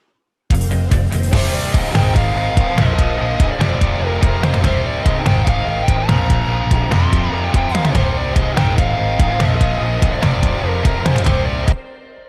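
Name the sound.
sampled tom drums in rock mix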